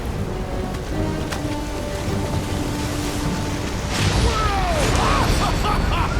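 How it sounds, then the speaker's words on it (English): Stormy sea weather in Guardians of the Galaxy, a steady wash of rain and rough water with crashing thumps and rising noise toward the end, beneath voices and game sounds. "This me, or is the storm actually getting worse?"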